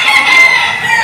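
A ganador-breed rooster crows at a chicken market, one steady, loud call lasting the full second, close and alone with no talk.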